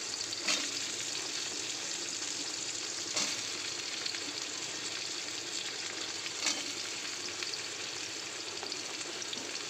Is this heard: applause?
no